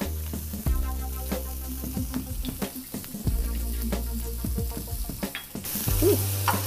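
Chopped onions hit a hot frying pan for a desi masala omelette, with a steady sizzle joined by clattering spatula scrapes and knocks, and a strong low hum running beneath, no talking.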